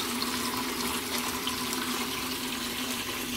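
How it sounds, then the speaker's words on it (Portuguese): A small pump in an aquaponics system circulates water, giving a steady close trickle and splash that runs unbroken and evenly loud throughout, with no voices. "e a bombinha tá aí, ó, circulando a água"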